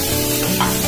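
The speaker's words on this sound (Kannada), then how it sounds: "ಸ್ವಲ್ಪ ರೋಸ್ಟ್ ಮಾಡ್ಕೊಳ್ಳಿ ಕಲರ್ ಬರೋಗಂಟ" Tomato roasting with onion and curry leaves in a pan for egg Maggi, a loud, close, continuous sizzle with a brief stirring swell partway through; no talking.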